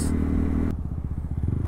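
A motorcycle engine while riding on roads in Quirino and Aurora, Philippines: a steady low, throbbing drone with a rapid pulsing rhythm, close and fairly loud, with rushing wind noise briefly at the start.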